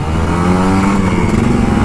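A Kawasaki Ninja RR 150 two-stroke motorcycle engine revs steadily and loudly up close on a Jakarta street in the morning, a continuous buzzing drone with small throttle swells.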